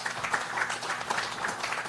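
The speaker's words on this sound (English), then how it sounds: "how about a nice round of applause for Craig Dolcher?" Press conference audience applauding an award winner, a soft, dense patter of clapping from a modest crowd, steady and fairly distant.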